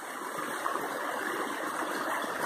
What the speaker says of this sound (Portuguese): Olha a quantidade de água que tá descendo aqui.